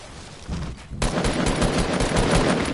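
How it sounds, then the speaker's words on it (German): Rapid bursts of enemy gunfire in the Fortnite Battle Royale video game, a dense continuous crackle of shots that starts quieter and turns loud and sustained after the first second, with no talking. "Ja, die schießen die ganze Zeit auf."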